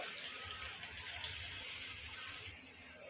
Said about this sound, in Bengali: তো এই যে আমি পানি দিয়ে দিচ্ছি, পেঁয়াজটা লাল হয়ে গেছে।